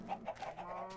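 Chicken clucking in a farming video game, a few short clucks in quick succession, fairly close and clear, with soft background music and no talking.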